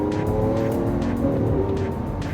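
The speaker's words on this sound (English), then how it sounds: "The engine is ferocious sounding. The noise it makes is right behind your ears." A 2013 Lamborghini Aventador's engine roars loud and close, a dense sustained growl with rising, surging tone and brief tire-squeal edges as the car accelerates, with no talking over it.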